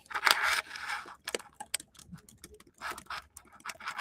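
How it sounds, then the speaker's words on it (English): Quick bursts of keyboard typing, close and fairly quiet, with short pauses between runs of keystrokes. "Sorry if y'all can hear me typing"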